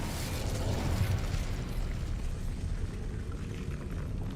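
In a Harry Potter wizard video game, an Incendio fire spell erupts as a heavy, rumbling burst of flame that roars loudly at first and then settles into a steady, slowly fading blaze.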